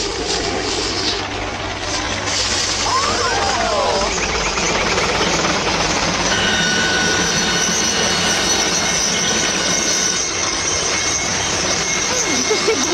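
Helicopter flying low over a residential area, a loud continuous roaring drone with steady rotor noise that fills the whole stretch without a break.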